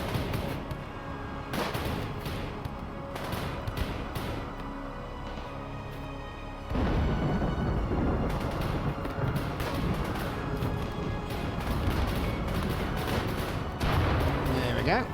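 Defensive gunfire in RimWorld against a zombie horde, repeated sharp shots and bursts scattered over about fifteen seconds, growing denser in the second half, with someone talking at times.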